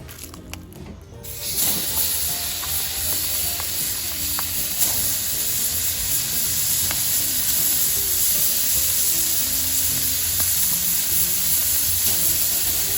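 Burgers sizzle loudly on hot grill grates freshly coated with cooking spray, a dense, continuous frying crackle that starts after a brief quiet moment and holds steady up close for over ten seconds.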